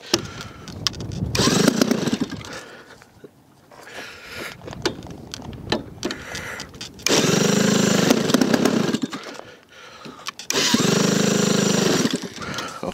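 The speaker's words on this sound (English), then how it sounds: "It seems I had serious engine trouble" A Savage Bobber RC model plane engine sputters with trouble in loud, uneven bursts that cut in and out, surging and dropping over several seconds outdoors, with no talk.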